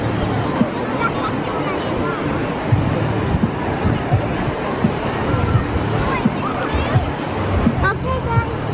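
Ocean waves wash steadily onto a beach on Hilton Head Island, a continuous near roar of surf mixed with wind buffeting, while several people talk and call out over it throughout.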